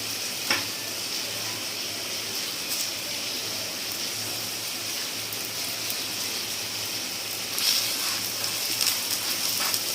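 Ghee sizzles steadily around a jaggery paratha cooking on a hot griddle, a continuous close frying hiss with a few faint clicks and a slight swell near the end.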